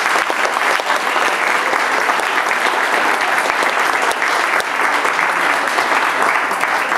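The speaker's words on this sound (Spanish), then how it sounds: "Démonos un aplauso, por favor." Sustained, loud applause from an audience closing a conference, with dense overlapping claps and a few sharper hand strikes standing out, continuous and even for the whole stretch.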